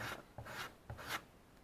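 Balsa wood crankbait body being sanded by hand, giving three short rasping strokes in a steady back-and-forth rhythm, close and fairly quiet, with no talking.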